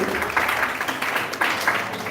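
At the launch and live draw of the Cheetah Cup 2025, an audience applauds the president of the Ghana Youth Sports Federation, a dense continuous patter of many hands at moderate level with a few louder swells.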